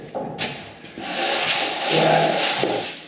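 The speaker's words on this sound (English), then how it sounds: "Now I'm just sanding the metal on the top of these fenders with 80 grit" Top panels of sandblasted metal fenders from a 1964 Chevelle Malibu SS are sanded by hand with 80 grit sandpaper, giving close, loud, continuous scraping rubs with short back-and-forth strokes and no talk.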